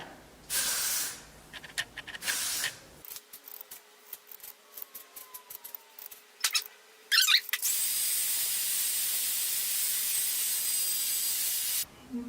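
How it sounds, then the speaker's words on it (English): Several short hissing bursts from a hair spray can, then one long steady spray hiss lasting several seconds, close and fairly loud, with light handling noises between. "I'm gonna go ahead and use my Got To Be spray along my entire hairline"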